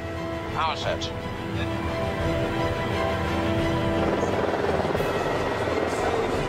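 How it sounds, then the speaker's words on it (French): Jet engines of an Airbus A350 throttle up for its first takeoff on the tarmac, a dense, steady roar building and swelling, with a short burst of crowd voices early on. "Les pilotes mettent les gaz."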